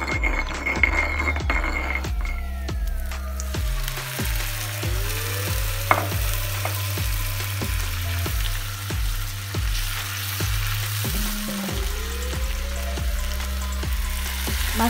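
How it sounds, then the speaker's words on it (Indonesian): Ground spice paste sautéing in a little hot oil for grilled gourami, with a steady sizzle and frying crackle under stirring, close and constant, while a music bed plays alongside. "Panaskan sedikit minyak dan tumis bumbu yang sudah dihaluskan."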